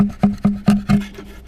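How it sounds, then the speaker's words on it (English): A chisel chips lightly into a wooden guitar box, giving six sharp, evenly spaced scraping strikes about a fifth of a second apart, close and fairly loud. "So I'm just going to chip away very lightly"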